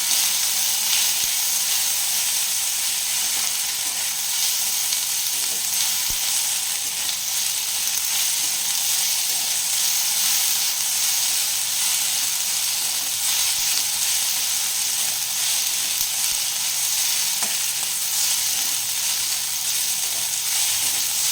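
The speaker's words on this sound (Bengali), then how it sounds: "এটা ভেজে নেব একটু ভালো ভালো" Ginger, garlic and chilli paste frying in a pan for Bengali biulir (kalai) dal, with a steady, close, even sizzle and hiss that keeps going without a break and has no talk over it.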